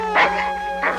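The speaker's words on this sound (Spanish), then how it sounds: "¡Llévense este perro de aquí!" A dog in a house gives a few short, moderately loud yips and barks, two quick ones close together and another a moment later, over a low steady hum.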